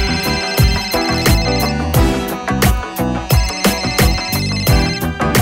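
A telephone ringing with a loud, close, melodic ringtone that repeats in rhythmic bursts of bright tones, alone with no voices.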